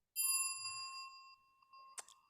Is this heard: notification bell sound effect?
yes